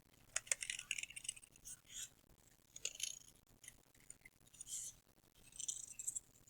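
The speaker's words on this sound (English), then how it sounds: "we're going to take our scissors and we're going to cut with our scissors" Several crisp, short snips of scissors cutting, spaced irregularly with quiet pauses between, close by and fairly soft.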